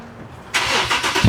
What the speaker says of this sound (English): we took out the exhaust and we're just gonna start it